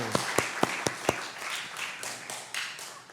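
Five sharp claps in a steady rhythm give way to a swell of scattered applause from a church congregation at a Sunday morning service in Seoul, moderately loud and fairly close.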